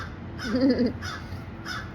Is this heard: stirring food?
no